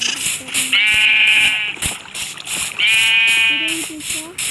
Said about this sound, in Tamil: ஆட்டுக்குட்டி